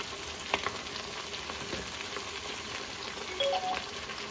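Tomatoes tipped into a pan of chicken and bamboo shoots, setting off a steady, close sizzle and fry with a few clinks and stirring scrapes, no voices over it.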